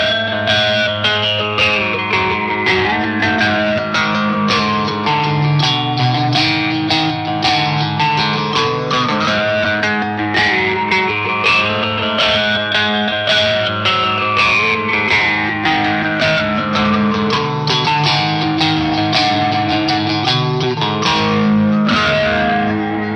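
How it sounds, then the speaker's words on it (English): Electric guitar played through a Matthews Effects tube amp expander pedal with reverb added, a dense, loud, continuous passage of distorted chords and sweeping melodic lines with a lush, effect-laden wash throughout. "Let me put a bit of reverb on the tube amp expander."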